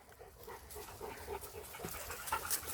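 A husky pants quickly and steadily close by, its breathy rhythm continuing throughout with faint background noise.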